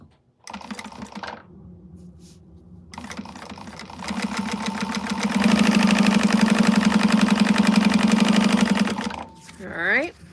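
A sewing machine topstitches a wristlet seam with a steady mechanical whirr that speeds up into a long fast run, then slows and stops. It is close and loud, with short pauses near the start.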